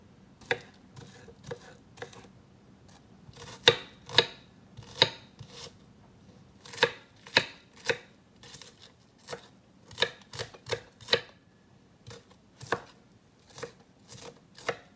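Knife chopping ingredients on a board for Jamaican cod fish fritters: crisp, close, irregular chops spaced out in short bursts over a quiet background.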